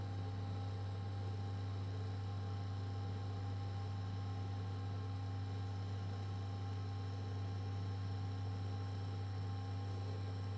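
A TIG welding arc on 70/30 copper nickel pipe puts out a steady, unbroken electrical hum with a faint hiss over it, continuous and even at moderate level, with no talk.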